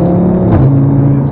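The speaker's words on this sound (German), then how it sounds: "Ja, der schießt so richtig raus. Der knattert so richtig." An Audi RS 3 with a tuned five-cylinder engine revs loudly close by, a dense harmonic rumble that swells and drops briefly in one short burst, with no talking.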